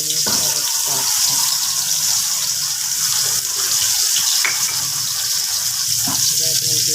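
Water pours steadily into a cooking pot of sautéed sweet potato tops with fish, a continuous close, broad rushing splash lasting several seconds without pause.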